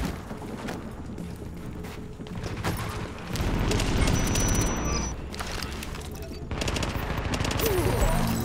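Sustained gunfire in The Division, loud automatic bursts and impacts layered over game noise, intensifying in the middle and again toward the end.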